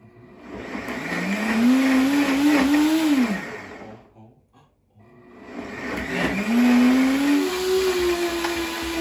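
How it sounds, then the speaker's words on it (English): A kitchen blender whirs loudly for two long runs with a short pause between them, its motor pitch climbing as it spins up, with no one speaking over it. "Don't be afraid to shake your blender."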